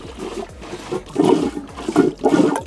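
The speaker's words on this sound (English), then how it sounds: "to flush, you just pump it" Rhythmic sloshing and gurgling of water as a hand-pump marine toilet on a houseboat is flushed, repeated strokes roughly every half second, with rising surges of flushing.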